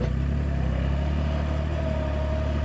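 Kubota tractor plowing a muddy, rain-soaked rice field, a steady mid-pitched engine drone running continuously at moderate distance without pause.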